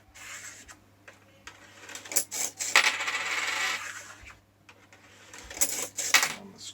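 Coins clatter and drop one after another into a coin-detecting machine that ejects the ones it detects, with bursts of rattling and sliding metal separated by brief pauses over a steady low hum.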